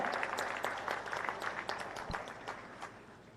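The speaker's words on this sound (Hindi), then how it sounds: "एक बार जोरदार तालियां हो जाएं।" An audience claps to welcome India's Minister of Road Transport and Highways onto the stage at a public event. The applause is steady and moderately distant, with dense overlapping claps and no clear speech.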